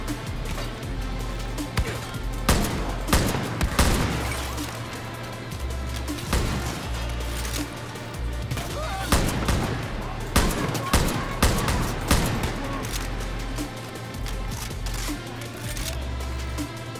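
Rapid bursts of gunfire in the video game Far Cry New Dawn crack repeatedly over a dense, steady game soundtrack, with sharp shots scattered throughout.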